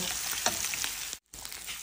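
Onions fry in a hot pan for the Kushtia dish malish, a steady close crackling sizzle with small pops, briefly cut out for a moment before resuming.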